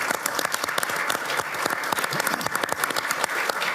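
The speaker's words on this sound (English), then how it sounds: "Round of applause." Audience applause at a public address by a government minister, a dense burst of many hands clapping in a hall, steady and fairly close throughout.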